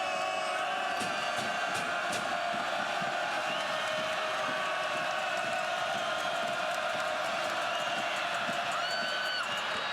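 A dense basketball arena crowd roars and cheers continuously at a Missouri versus Florida men's college basketball game, loud and sustained with whistles and shouts mixed in.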